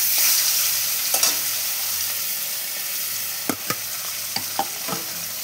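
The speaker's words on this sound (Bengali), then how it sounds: "আরেকটা পিস আমি ভেজে দেখাচ্ছি আপনাদের।" Pieces of chital fish fry in hot oil in a pan with a steady, hissing sizzle, broken by a few sharp clicks and taps as the pieces are handled and turned, and no voices present.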